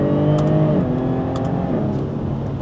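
A Jaguar F-Type S sports car accelerates hard, its engine note loud and close, rising through the revs with a brief shift dip, no voices.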